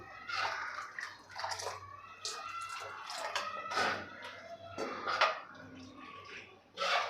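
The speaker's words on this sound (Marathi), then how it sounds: "आता मी अजून गरम पाणी यामध्ये घालणार आहे" Hot water is poured into a pot of vada rasam, giving uneven splashing and gurgling bursts that rise and fall over several seconds, close and moderately loud, with faint kitchen background.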